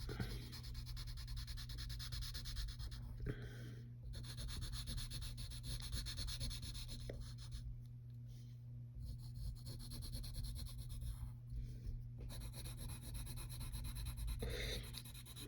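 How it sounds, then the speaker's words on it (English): Side of a pencil rubbed steadily across paper to shade a drawing of Jafar in solid black, a close, continuous dry scratching that runs nearly throughout with a few brief pauses. "Use the side of your pencil when doing this."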